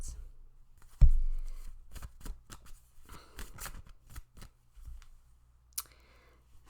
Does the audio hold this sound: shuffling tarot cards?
yes